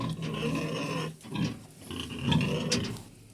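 A sow on a village farm, with a cheek injured by a chain, gives loud, close grunts and snorts. The grunts come in several uneven bursts with short pauses between them, and no one speaks.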